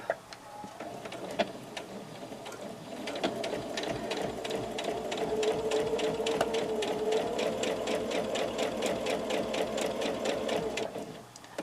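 A sewing machine stitching single fold binding, running with a steady rapid ticking whir that rises slightly and holds at a constant speed close up, with a few faint clicks at the start.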